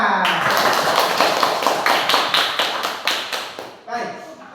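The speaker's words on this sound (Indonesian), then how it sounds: "Tepuk tangan." A group claps in a steady rhythm, about a dozen sharp evenly spaced beats, loud and close, ending with a short voice.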